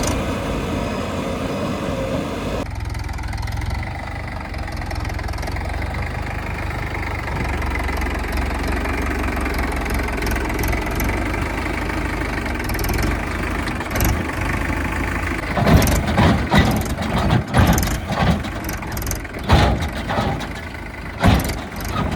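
A JCB 3DX backhoe loader and Sonalika and Mahindra tractors run together while loading mud: a steady, loud diesel rumble with a knocking idle, and clanks and rattling bursts toward the end.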